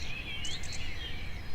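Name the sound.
morning birds chirping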